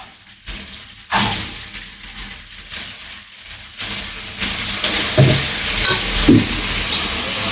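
Goat mutton with bay leaf and mixed spices is stir-fried in a pan, giving a loud, continuous sizzle broken by scraping stirs and occasional thumps of the spatula, with the frying growing louder partway through.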